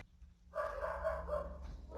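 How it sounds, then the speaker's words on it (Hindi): Dogs bark repeatedly in the pre-dawn hours, a steady run of mid-distance woofs that starts after a quiet moment and carries on alone. "और ये कुत्ते भौंकना दोबारा से शुरू हो गए"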